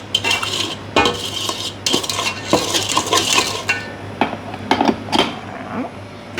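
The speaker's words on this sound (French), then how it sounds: "soit avec une spatule, soit directement avec l'outil, pour bien mélanger le fond, que tout se mélange." Cookie dough being mixed in a bowl with a spatula or utensil, giving close scraping, knocking and clinking strokes in an irregular rhythm against a steady low background hum, with no talking.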